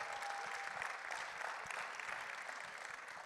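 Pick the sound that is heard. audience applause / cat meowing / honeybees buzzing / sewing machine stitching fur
audience applause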